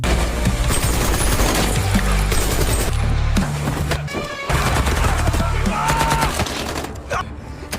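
Rapid bursts of automatic gunfire rattle almost without pause, loud and close, with a few brief gaps between volleys.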